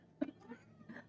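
A sassy cat yowls once, close and fairly quiet, with a sharp meow followed by a softer trailing cry and a second faint vocal near the end.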